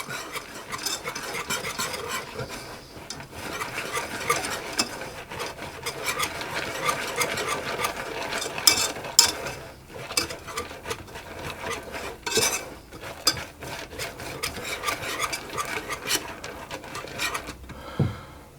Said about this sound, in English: my dark chocolate and my cocoa powder, and I'm going to mix those around